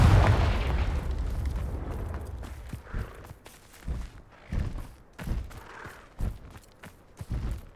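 A Confringo fire spell from the Hogwarts Legacy video game opens with a loud, deep explosion, then a series of lighter booms and thuds at irregular intervals that fade somewhat.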